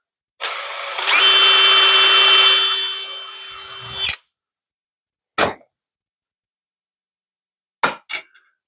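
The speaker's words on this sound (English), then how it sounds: "always use your finger as a backstop for your drill" Power drill boring through a thin metal gauge panel for a custom gauge cluster, one loud sustained whining run that bites through and stops, followed by a few sharp clicks and taps.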